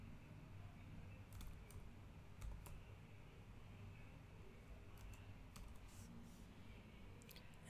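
Soft, scattered key clicks from typing a password on a computer keyboard, faint and irregular over a low background hum with no talk.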